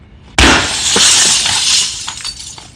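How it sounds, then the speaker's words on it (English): A pane of glass smashed with a brick: one sudden loud crash followed by a shower of tinkling, clinking shards scattering for about two seconds, close by with no talking. "I'm smashing it out of there with a brick."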